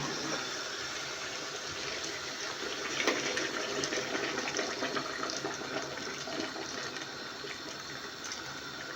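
Steady rushing of water poured continuously into a cooking pot of roasted squash for several seconds, a broad, even gush with a faint splash and clatter, no voices.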